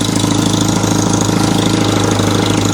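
A 1948 Willys CJ2A jeep engine idles steadily and loud at close range, a rough, even mechanical rumble throughout with no talking.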